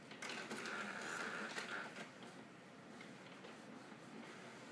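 An Epson Stylus NX430 inkjet printer grabbing paper to print a test page, giving a faint whirring, mechanical feed sound that fades into a quieter, steady hum.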